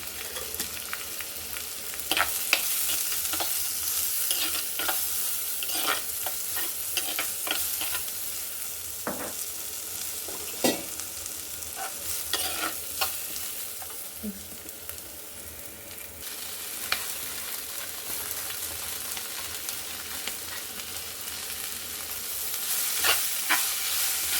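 Masala with cumin powder stirred and frying in a pan for a village-style horse gram dish: steady sizzling hiss with repeated scraping stirs of a spoon, close up, no voices.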